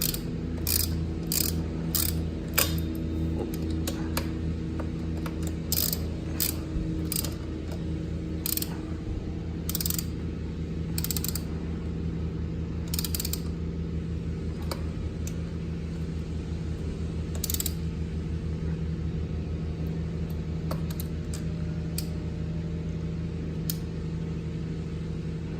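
Ratchet tightening block-off bolts where the parking brake was removed on a 2018 Yamaha Raptor 700R quad; bursts of rapid clicking repeat in short runs over a steady mechanical hum, close and clear, with no talking.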